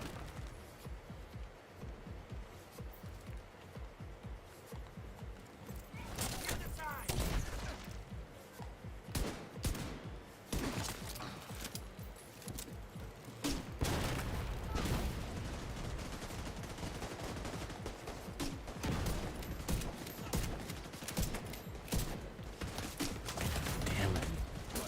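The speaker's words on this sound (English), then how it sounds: "he can shoot grenades at me faster than I can heal" Enemy gunfire and grenade launcher shots in The Division 2, loud bursts of automatic fire and heavy blasts cracking repeatedly in dense clusters, with little pause between volleys and some faint speech underneath.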